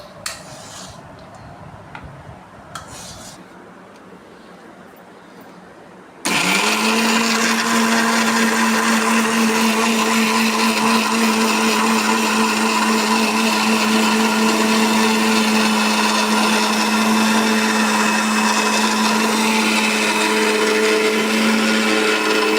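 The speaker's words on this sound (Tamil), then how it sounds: "மிக்சியில் நம்ம நல்லா அரைச்சிட்டோம்" Mixer grinder whirring steadily at high speed as it grinds roasted cauliflower curry masala, switching on abruptly after a few seconds of quiet and then running loud and continuous with a constant motor drone.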